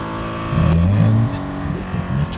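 Race car engine in Real Racing 3 at the Monza circuit, a steady loud drone that swells and revs up mid-clip with shifting tones, then dips and rises again, heard alone without talk.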